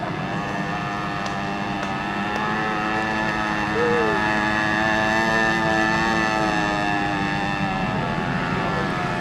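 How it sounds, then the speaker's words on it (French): A small model two-stroke engine runs steadily at a model boat club show, buzzing in a constant drone with a slight shift in pitch. Background voices from the event murmur underneath. "je peux voir et entendre un thermique. C'est un 2 temps, hein, bien sûr."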